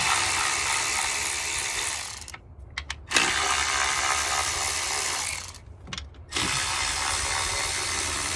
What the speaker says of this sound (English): So you can see how quickly all this is going with this auto ratchet.